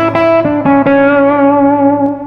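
Asher Model T electric guitar with its tone styler turned back for a darker tone, played through effects with slight distortion and reverb: several struck chords ring out, each sustaining and decaying, loud and close, with no talking.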